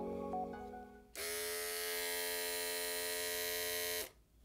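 An Andis Revite hair clipper switches on with a sudden loud, steady high-pitched motor buzz that holds evenly for about three seconds, then shuts off, after a quieter hum at the start.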